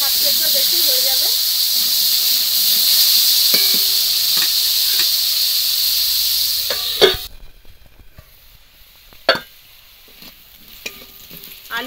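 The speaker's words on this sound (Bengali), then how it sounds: "আলুগুলোও ভাজা হয়ে গেছে" Potatoes, salted and half-boiled, frying in a pan make a steady loud sizzle for about seven seconds, which then cuts off, leaving scattered clinks and stirring scrapes alongside a speaking voice.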